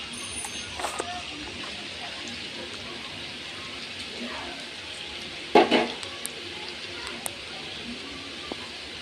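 Roll filling being sautéed in a pan makes a steady sizzle and hiss with a few spatula scrapes and a brief louder clatter midway. There is no talk.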